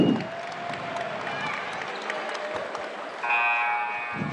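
A men's college basketball crowd at a Panhandle Conference game applauds and cheers in a steady roar of clapping, with a bright buzzer-like tone sounding near the end.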